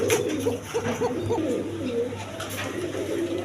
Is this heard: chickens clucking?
no